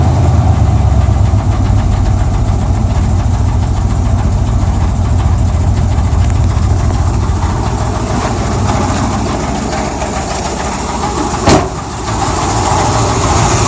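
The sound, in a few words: 1978 Chevrolet El Camino engine running with a possible knock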